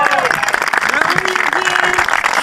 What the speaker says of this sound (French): Un bel applaudissement pour Jürgen.